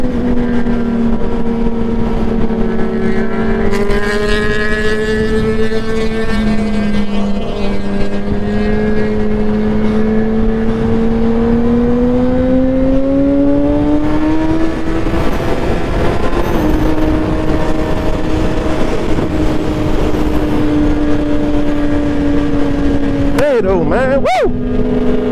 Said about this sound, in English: Here's the bikes, you don't hear nothing else.